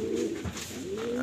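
Racing pigeons coo at a loft, a steady close-up cooing that runs through the whole short stretch on its own, with no talking over it.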